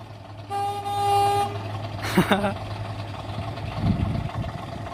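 Old red bus at the Black Country Living Museum sounding a sustained horn toot of about a second, followed by engine rumble and a few knocks and clatters nearby.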